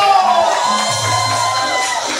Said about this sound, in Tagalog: palakpakan at hiyawan everybody!